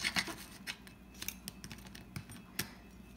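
Knife and fork cutting a waffle with repeated stab-and-saw strokes, giving quiet, close scraping taps and clicks in an uneven rhythm with no talking.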